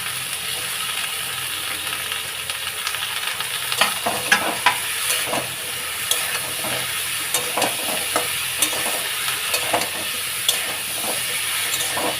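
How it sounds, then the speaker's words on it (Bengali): Vegetable stems and eggplant, with soaked dried chili powder, fry in a hot pan and get stirred. A steady, close sizzle hisses throughout, broken by scattered scrapes and clicks of the spatula. No voices are heard. "এইভাবে ভাজতে থাকবে। বেগুনটা দিয়ে দেবো, ভাজতে থাকবে।"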